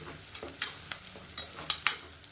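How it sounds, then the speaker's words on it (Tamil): Chopped onions and tiny chilies sautéing for a chicken uppu curry, a steady close sizzle broken by several sharp spatula scrapes and taps against the pan. "இதையும் சேர்த்து நல்லா வதக்கி விட்டுருக்கேன்"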